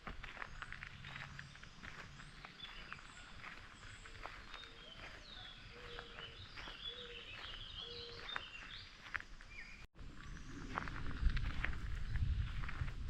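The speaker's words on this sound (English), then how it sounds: "there was like 4 of these birds all singing away" Several birds sing outdoors on a nature walk, faint chirps and short whistled notes scattered across the clip over soft footsteps and rustling, with a louder low rumble near the end.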